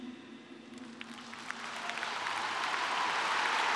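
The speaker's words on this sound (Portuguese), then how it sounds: "Ela foi aplaudida de pé." A large audience rises in a standing ovation, applause swelling from scattered claps into dense, sustained clapping that grows louder toward the end before cutting off abruptly.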